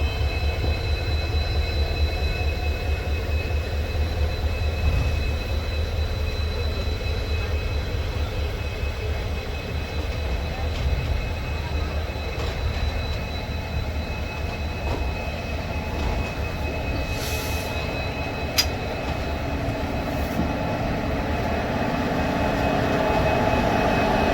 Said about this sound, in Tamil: இங்கே வந்து இன்னொரு ட்ரெயினோட கிராசிங் பார்த்தோம்